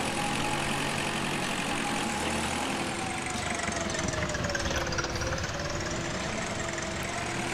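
A tractor engine in the farming game Agricultural Simulator 2013 drones steadily with a knocking, diesel-like idle and a slowly shifting whine, loud and continuous throughout with no voices.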